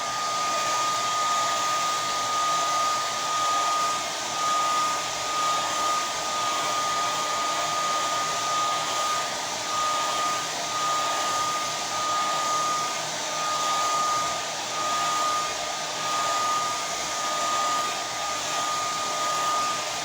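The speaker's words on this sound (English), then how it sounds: "Let me blow dry this like I showed you guys I do." A hair dryer blows on hair in a steady, loud, close whir with a high whine, running continuously for the whole stretch without any talking.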